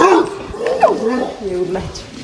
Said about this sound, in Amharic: ውሻም አለ እዚህ ጋር ላሳያችሁ